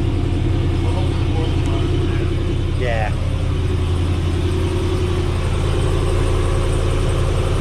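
A RAM 6.4L HEMI Power Wagon idles with a Borla S-Type exhaust, straight-piped at the end and running without the rear muffler, giving a steady, close, low rumble; a voice speaks briefly.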